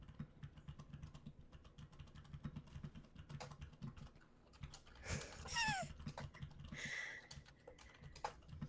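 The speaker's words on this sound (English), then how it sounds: "We're just typing away here." Computer keyboard typing during a live basketball news stream, a steady patter of soft clicks across the whole stretch with a brief meow-like cry and a few brighter sounds partway through.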